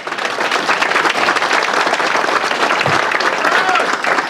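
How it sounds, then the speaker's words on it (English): Steady, dense applause from a large crowd at a luncheon, loud and continuous throughout with a few scattered cheers mixed in. "Round of applause for Cash Reynolds, please, right here."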